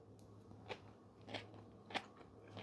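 Someone bites into a forkful of crunchy sautéed soy bean sprouts seasoned with ginger and Sichuan pepper, giving three faint, close crunches spaced evenly apart against a quiet background.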